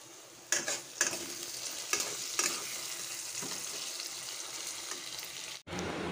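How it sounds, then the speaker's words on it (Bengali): Onions dropped into oil with whole cardamom, cloves, cinnamon, bay leaf and dried chilli, frying with a soft steady sizzle broken by several sharp stirring scrapes and clatters, ending in a brief cut and louder hiss. "এগুলো একটু ভেজে নিয়ে তারপরে আমি এতে এখন পেঁয়াজগুলো দিয়ে দিচ্ছি।"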